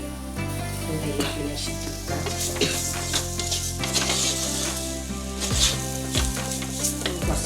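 Mango pieces sautéed and stirred in a pan for a mango and sardine curry: continuous close sizzling with repeated spoon scrapes and clinks against the pan, without talk.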